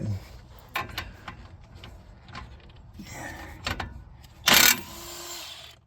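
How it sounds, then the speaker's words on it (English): A DeWalt power tool works on the front hub of an 08 Hummer H2 during wheel bearing work, giving several short mechanical bursts and ratcheting clicks. One loud, harsh spin stands out near the end. "we're going to go back to the DeWalt now and see if we can spin it the rest of the way off"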